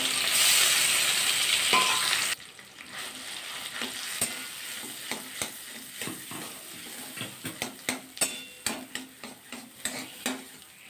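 Chana dal sizzles and fries in hot oil in a pan, a loud steady crackle for the first two seconds, then quieter frying broken by repeated clinks and scrapes of a utensil stirring against the pan.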